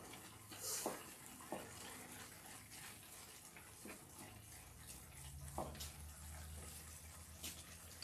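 Cooked ramen noodles drained of their water, a steady gushing and splashing stream into a sink with a few clunks, fairly close and continuous.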